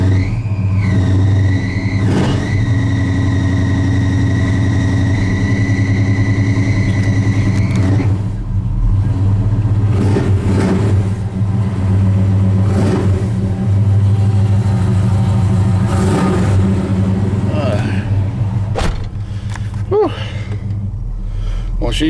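The engine of a 1985 Chevy C30 truck, with a loose belt and a choke that does not work, cranks and catches after sitting, then runs and revs unevenly with a loud, close rumble. A high whine fades early on.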